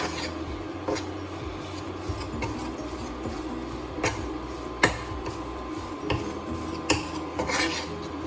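Tapioca pearl khichadi with peanuts being stirred in a pan over moderate heat, repeated scraping strokes of a utensil against the pan with intermittent sharp clinks, close and fairly loud.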